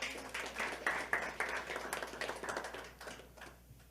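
Scattered clapping from a church congregation, a steady patter of hands that gradually thins out and fades near the end.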